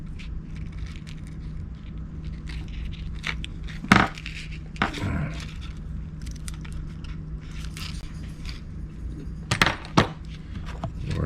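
Cheap $4 Harbor Freight mini bolt cutters snipping through small metal parts from a Moebius 1972 Ford F350 tow truck model kit: sharp snaps at about four seconds and again near the end, set against a quiet room hum.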